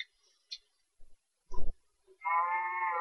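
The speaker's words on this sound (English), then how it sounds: "a very loud cow that's going to meet its maker really soon if it doesn't shut up" A Minecraft cow gives one loud, drawn-out moo near the end, after scattered clicks and a short thump in an otherwise quiet game scene.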